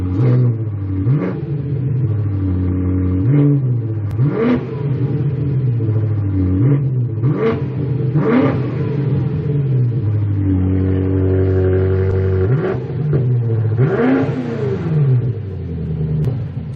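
BMW M8 engine with a K&N high-flow air filter, revved repeatedly: loud, close rising and falling engine roars in a steady series of blips, with a faint intake whoosh beneath, no talk.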